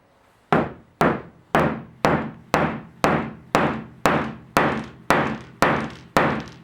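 A bushing is knocked into a 25mm drilled hole in a workbench jig plate with eleven evenly spaced, sharp, loud hammer blows, each ringing briefly before the next.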